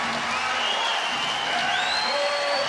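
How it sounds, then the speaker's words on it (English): Arena crowd at an Iowa college wrestling dual meet applauding and cheering loudly and steadily, with whoops and whistles rising through the roar of the stands as fans come to their feet. "Spencer Lee, this crowd comes to their feet."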